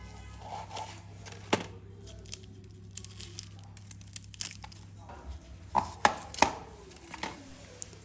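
A knife finely chopping dumpling filling with winter bamboo shoots on a board, a sparse irregular series of crisp close chops and light taps, louder strikes clustered toward the end, against a quiet background.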